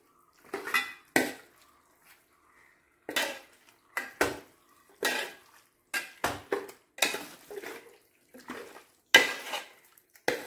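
Chicken curry is stirred in a pot: about a dozen separate bursts of a spoon scraping and clinking against the metal, each short and fairly close, with near silence in between.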